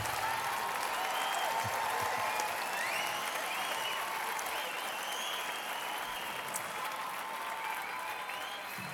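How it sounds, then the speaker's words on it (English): A large crowd applauds steadily and continuously throughout, a dense wash of clapping with occasional faint whistles and cheers. "Let's see those kinds of applause."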